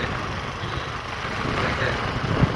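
A motorbike on a road near areca nut groves on the way to Jaigaon and Pasakha at the Bhutan border, its engine a steady, fairly loud rumble blended with broad road and wind noise that swells only slightly, with no voices.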